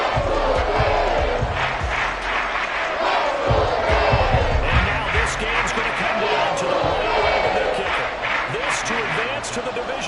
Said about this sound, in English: Work to do here with a crowd at fever pitch.